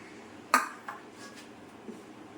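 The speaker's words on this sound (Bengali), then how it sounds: "পড়ে গেল আলুটা" A potato drops in a kitchen with one sharp knock and a metallic ping, followed by two fainter taps in an otherwise quiet room.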